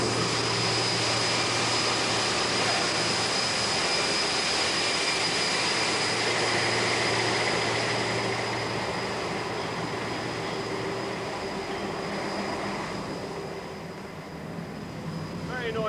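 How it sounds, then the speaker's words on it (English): Diesel engines run steadily in the engine room of the submarine HMS Opossum, a loud, constant machinery drone with a low hum and a high whine, shifting slightly near the end. "And up here is the engine room."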